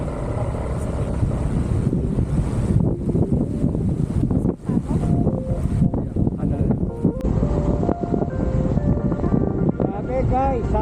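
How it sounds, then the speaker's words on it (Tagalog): Strong, cold gusts at a motorcycle campsite buffet the microphone with a heavy, roaring rumble throughout, while people talk faintly beneath the wind. "Sobrang malakas ang hangin"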